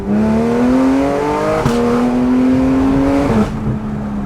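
A sports car on a race track accelerates hard, its engine note climbing steadily through gears with brief shift breaks, loud and close from inside the raw, low-slung cabin.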